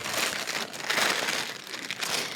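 A plastic cereal bag crinkles and crunches steadily as chicken cutlets are shaken in breadcrumbs inside it, close and continuous with no talking.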